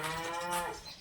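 Cattle lowing inside a farm stable, a single drawn-out moo with a clear harmonic tone that rises and fades over about a second, close and fairly loud with no talk.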